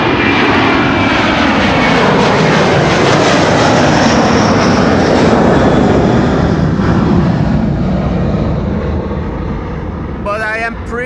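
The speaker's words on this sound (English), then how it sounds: "is this Delta Airlines flight 163? I think it is. A330-300 to Minneapolis, Minnesota." Delta Air Lines Airbus A330-300 bound for Minneapolis taking off from Amsterdam Schiphol's Kaagbaan runway 24, a loud, sustained jet roar holding steady for the whole stretch, with a voice speaking near the end.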